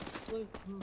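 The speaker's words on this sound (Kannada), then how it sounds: "ಅವೆಲ್ಲ ಗನ್ ಸೌಂಡ್ ಎಲ್ಲ ಫ್ರೀ ಫೈರ್ ಮ್ಯಾಕ್ಸ್." Gunfire from the mobile shooter game Free Fire Max, a few short bursts of shots played back at moderate level against a busy background of game sound.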